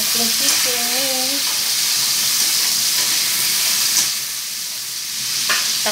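Chicken pieces pan-fry for an egg tofu and moringa stew, giving a loud, steady sizzle with bursts of crackle close up and a brief tonal sound near the start.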